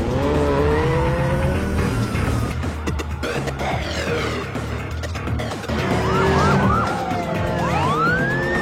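A police car siren in a street-racing film wails with rising and falling sweeps over revving race car engines and general commotion, loud and continuous throughout.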